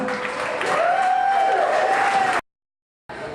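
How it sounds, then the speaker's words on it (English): Applause from a crowd at a benefit concert, steady clapping with a tonal feedback-like whine over it, cutting out abruptly to silence before resuming briefly. "Give yourselves a round of applause."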